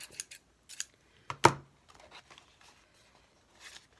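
A few short snips of scissors through paper, with one sharper, louder cut in the middle, then quiet rustling and a last faint snip.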